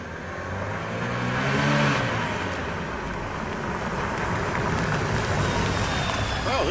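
A Peugeot 106 car engine revving and accelerating, a loud, steady drone that swells near the two-second mark and then holds, with a faint voice underneath.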